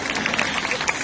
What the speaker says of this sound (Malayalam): ആദ്യം മാഡത്തിന് നല്ലൊരു കൈയടി കൊടുക്കാം.